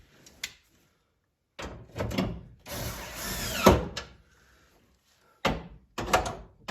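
Bolts go into a 1970 Chevelle window regulator in separate bursts of clanking and rattling metal, with short quiet gaps between, close by and fairly loud.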